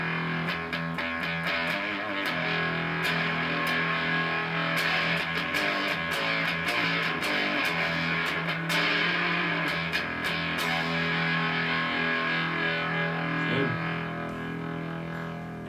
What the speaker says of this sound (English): So we bring it forward, we get a lot more of that fuzz.